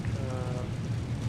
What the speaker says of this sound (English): Does that rain sound from FS Realistic?